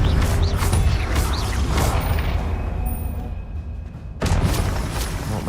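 Confringo spell blasts in Hogwarts Legacy boom and crash in a dense, continuous wash of explosive game effects, with a sudden drop-out near the end before another burst hits.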